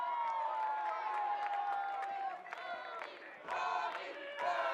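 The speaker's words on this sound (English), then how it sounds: "Nice hearing it from what's left of the crowd." A thinned-out crowd at a college baseball game between UTSA and TCU cheers and yells after a double, sustained shouting with brief dips, fairly close, without commentary over it.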